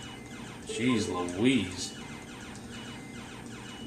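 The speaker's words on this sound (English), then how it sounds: "You hear the music? It's just beeping." Beeping, warbling electronic music from a Power-Joy handheld video game plays in two short bursts of tones, close but modest in level, as a person briefly speaks.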